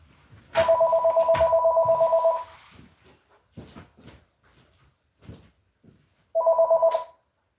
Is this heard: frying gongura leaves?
no